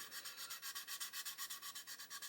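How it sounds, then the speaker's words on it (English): A plastic model being sanded with a 400 grit Infini sponge, soft rapid back-and-forth rubbing strokes in an even rhythm, quiet and close. "what I am going to do is use this 400 grit Infini sponge"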